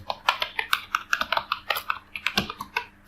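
Rapid keystrokes on a computer keyboard as a company name is entered into an online refund policy generator, a quick irregular run of close, crisp clicks with no voice.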